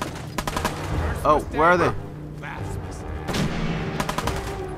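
Gunfire in the video game Fallout 4, a few sharp broadband shots in the first second followed by a later burst, heard under a voice talking over the game.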